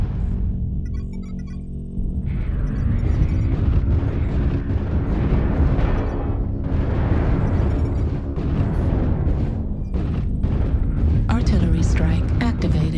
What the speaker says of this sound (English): Artillery strike activated. Target spotted. Artillery strike online.